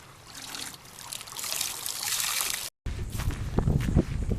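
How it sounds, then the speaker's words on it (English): Water splashes and trickles in uneven bursts as it is bailed out of a boat, with sloshing and dribbling close by, followed by heavier, louder splashing after a brief cut. "Getting all the water out of the boat."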